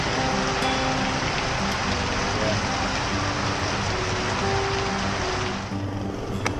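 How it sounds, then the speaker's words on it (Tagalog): Heavy pouring rain during a bike ride in Manila in rainy season, a dense steady hiss that fills the whole clip with no pause and eases slightly in the last second. "And it's pouring rain."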